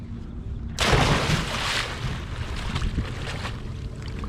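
Someone plunges into chilly open water for a swim: a sudden loud splash-like surge of broadband noise, then a steady wash of water and wind rumble continuing for several seconds, with no talking.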